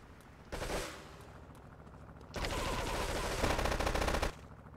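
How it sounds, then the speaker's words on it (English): Rapid automatic gunfire rattles in Grand Theft Auto 3 Definitive Edition. A short burst is followed by a longer, sustained volley, loud and dense, with no talking. "Who the fuck is shooting me?"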